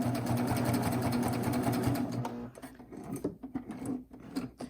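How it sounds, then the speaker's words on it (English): A Baby Lock serger runs steadily up close for about two seconds while sewing back a couple of inches, then slows and stops, leaving scattered handling clicks and rustles. "put your foot down, and we're just going to sew back a couple of inches"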